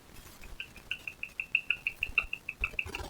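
A pet bird rapidly clicking and grinding its beak up close, a quick run of sharp evenly spaced clicks that speeds into a steady rattling rhythm, alone and clearly audible.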